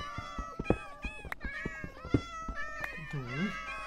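Cat meows in the Minecraft video game, several short mewing calls with one drawn-out, wavering meow near the end, heard close and clear among lively voices talking over them.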